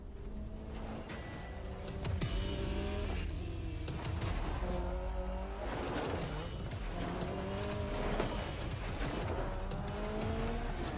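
Rally car engine revving and shifting through gears in a Dirt Rally video game trailer, loud and continuous with rising and falling harmonic sweeps, tire noise and skids over a steady roar.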